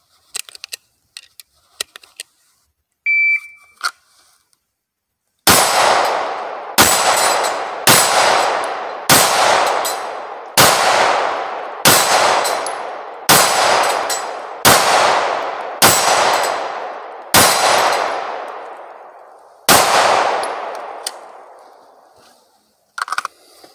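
Rapid gunshots ring out during a shooting competition, each striking a flipping steel target with a sharp metallic clang. Ten shots fire in quick succession over about fourteen seconds, with a few faint clicks and taps before them.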